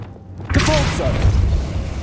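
A Depulso spell cast in Hogwarts Legacy lands as a sudden booming thump, then a sustained whooshing rumble with bright crackling layers that holds loud to the end.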